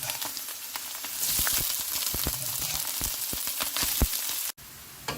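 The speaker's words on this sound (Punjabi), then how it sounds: "ਕਰੇਲੇ ਸਾਡੇ ਅੱਛੇ ਫਰਾਈ ਹੋ ਚੁੱਕੇ ਨੇ" Bitter gourd (karela) fries in oil in a pot, a steady crackling sizzle with scattered sharp pops and some stirring clatter, fairly close and with no talking.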